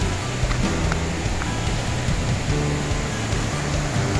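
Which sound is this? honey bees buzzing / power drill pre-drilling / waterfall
waterfall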